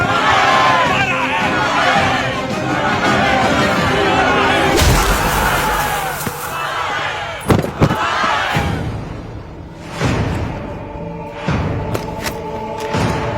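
A large crowd in a Hindi film scene shouts and roars in a dense, continuous wall of voices, with heavy thuds and sharp impacts breaking through midway, loud and close throughout.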